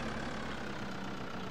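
A tractor engine in Farming Simulator 2013 runs at a steady idle, a continuous low droning hum with no talk, even and unbroken.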